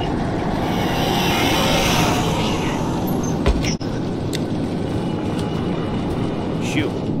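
The Rush monster tearing past in the Roblox horror game Doors, a loud sustained rumbling roar that swells and holds, broken by a few sharp clicks and knocks, with a voice speaking over it.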